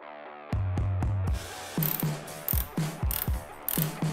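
A ratchet wrench tightens a locking nut over a flat washer on an adjustable bagger motorcycle brake arm, giving quick bursts of metallic clicks in a steady back-and-forth rhythm, close and clear with no talk.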